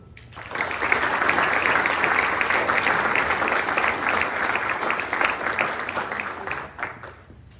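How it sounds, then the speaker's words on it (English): An audience at a student honors induction ceremony bursts into sustained applause, loud and dense clapping that swells quickly, holds for several seconds, then tapers off. "one more round of applause for these students they so richly deserve"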